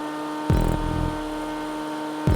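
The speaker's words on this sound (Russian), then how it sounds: "А заодно звук мотора послушаем." A steady engine drone from a Dinka Jester Classic in a video game during a top-speed test, with a revving burst near the start and another at the very end, loud and continuous with no talking.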